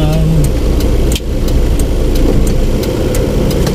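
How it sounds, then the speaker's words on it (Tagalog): Heavy, congested road traffic with car engines idling close by, a steady low rumble of motors that holds throughout with small shifts in level and no clear speech. "Sobrang traffic kasi dito."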